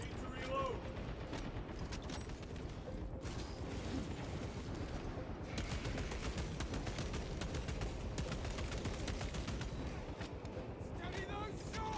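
Continuous rapid gunfire from Space Marine, loud and dense throughout, with mechanical clatter and a brief lull near the middle, under scattered game voices.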